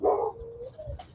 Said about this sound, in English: And then there's been a little bit of a yappy dog.